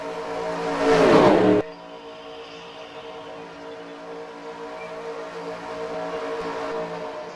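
Race cars in the Dinoco Cup roar past loudly in a brief surge, then settle into a steady engine drone as the pack continues around the track.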